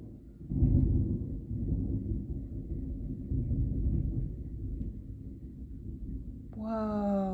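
Low rolling thunder following a big lightning strike in a storm, a sustained deep rumble that swells and lingers for several seconds, with a brief tonal sound at the very end.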